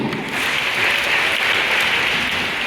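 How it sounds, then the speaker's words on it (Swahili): A group of children claps their hands together, a dense, even burst of applause filling the whole short stretch at close range with no talking over it. "Pigie makofi."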